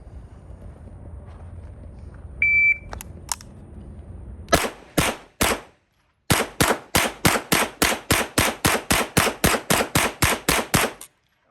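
A KP9 gun firing about 22 rounds on a shooting range after a start signal, loud sharp reports beginning with a few spaced shots, then a brief pause before a steady rapid string of evenly spaced shots, close and alone.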